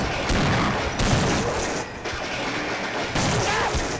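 Gunfire in the video game Half-Life: a run of loud, sharp bursts of shots with short gaps between them, close and dominant, and little or no talk.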